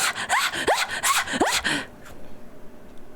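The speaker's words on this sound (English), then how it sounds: "there is a monster that sounds like rabbit screaming." Several high, rising shrieks like a rabbit screaming from a game monster, coming in quick raspy bursts before fading into a quiet background.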